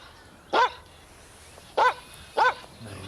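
A dog barks three times in short, loud bursts at close range, with a pause before the second and a quick third bark following; no one speaks.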